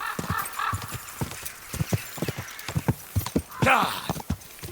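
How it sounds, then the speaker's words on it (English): A horse gallops in Kingdom Come: Deliverance 2, its rapid rhythmic hoofbeats loud and close throughout, with a whinny rising near the end. "My horse has plenty of speed"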